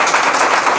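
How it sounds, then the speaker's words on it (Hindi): Audience clapping, a brief, dense burst of steady applause heard up close. "ताली बजते रहना"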